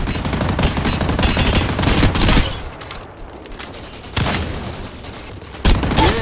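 Heavy bursts of automatic gunfire in the mobile shooter High Energy Heroes played on a Samsung S22 Ultra, loud rapid volleys with a quieter lull midway, no talking.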